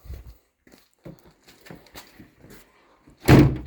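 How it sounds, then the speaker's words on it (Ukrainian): A damaged 2007 Citroen Jumper van's door, hinges still working after a crash, is handled with faint clicks and rattles before closing in one loud, close slam. "двері зачиняються ще ще непогано"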